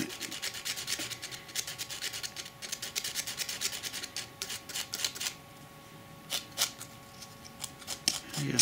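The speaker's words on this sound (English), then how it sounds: "just sanding the edges now to get the radius that I'm looking for" Edges of a piece of card being sanded by hand to shape a rounded radius for a model ticket office facia, a close, quiet run of rapid rasping strokes with brief pauses between bursts.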